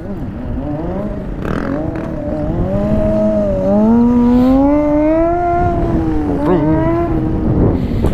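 A Raptor motorbike revs hard on an otherwise empty track, a loud, sustained engine drone that rises and wavers in pitch as the throttle opens, continuous throughout.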